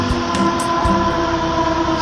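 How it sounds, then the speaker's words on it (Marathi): An express train passing near Talegaon Dabhade railway station, a loud, continuous close rumble with a steady mechanical drone and faint rhythmic clatter throughout. "ही बघा एक एक्सप्रेस ट्रेन चाललेली आहे लोणावळ्याच्या दिशेने."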